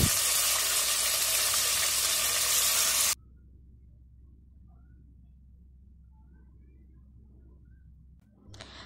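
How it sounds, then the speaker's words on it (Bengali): Chopped chicken dropped into hot oil with ginger and garlic gives a loud, dense sizzle for about three seconds, then cuts to a much quieter low kitchen hum. "হালকাভাবে ভেজে নেওয়া হয়ে গেলে এখন দিয়ে দিব সে কুচি করে নেওয়া মাংসগুলো"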